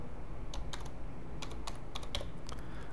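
Typing on a computer keyboard while working in Prezi presentation software: a loose run of crisp key clicks, some in quick pairs, close up over a steady low room hum, with no talking.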